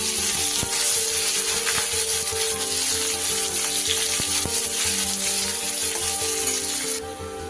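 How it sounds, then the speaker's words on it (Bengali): Chopped onion frying in oil for a mung dal made with katla fish head, a loud, dense sizzle with scattered ticks and scraping, while a steady background hum runs beneath it. "এবার এতে দিয়ে দেব একটা বড় সাইজের পেঁয়াজ কুচিয়ে রেখেছি, সেটা ভালো করে ভেজে নেব।"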